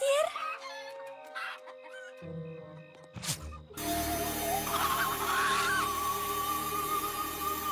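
Several chickens cluck in an animated cartoon, a busy stretch of fowl calls over a dense, sustained background that grows fuller partway through; no talking.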